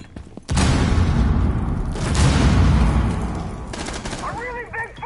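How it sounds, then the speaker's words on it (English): A frag grenade detonates in a video game with a loud, close blast and a long rumbling decay, then a second burst follows before a voice speaks briefly at the end. "Tossing a frag."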